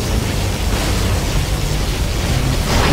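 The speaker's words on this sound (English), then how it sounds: "Our particle cannon has been activated." Particle cannon superweapon fires in C&C Generals with a loud, sustained roaring blast of dense broadband noise lasting about three seconds, steady and overpowering with no voices.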